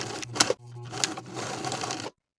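A sewing machine stitching the center front facings of a cardigan with a wide seam allowance, a short close run of rapid mechanical chatter with a brief pause midway, then stopping.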